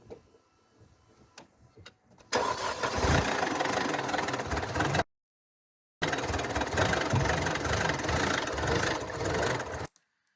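A Mercedes W203 engine with timing trouble turns over and catches, running loud and steady for a few seconds, cuts out briefly, then roars again before stopping abruptly.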